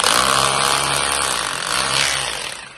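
A heavy duty drill in hammer mode bores into hard concrete, giving a loud, continuous, gritty roar that holds steady for nearly three seconds before easing slightly at the end.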